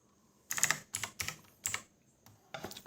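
Close-up clicking of laptop keys: about six distinct keystroke bursts in an uneven rhythm, with a brief pause before the last, heard alone in a quiet room.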